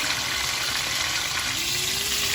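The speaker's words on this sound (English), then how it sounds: "I've just put the last piece of chicken Maryland in the frying pan alongside the pork sausages" Steady, even sizzle of chicken Maryland and pork sausages frying in a pan, a continuous hiss with no talking.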